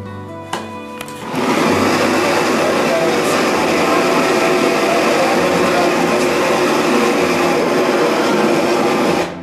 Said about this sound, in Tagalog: Built-in vacuum.